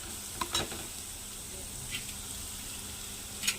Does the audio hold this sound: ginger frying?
yes